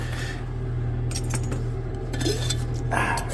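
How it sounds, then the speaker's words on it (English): Glass vessel holding an aqua regia gold-recovery reaction stirred briefly, a run of light glassy clinks and scrapes over a constant low hum, close and fairly quiet. "I'm just going to give this a quick stir before I let this nitric do its thing"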